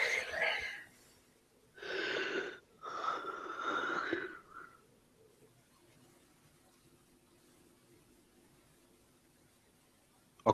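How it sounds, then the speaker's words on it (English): A person yawning: a few drawn-out, breathy yawns with short pauses between them, close to the microphone, followed by near silence. "I caught your yawn all the way from Australia to New Zealand."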